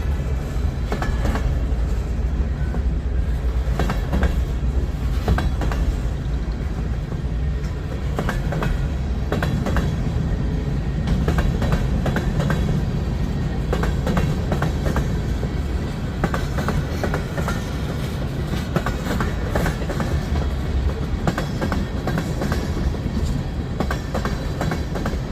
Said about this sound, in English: This is a 5-minute train.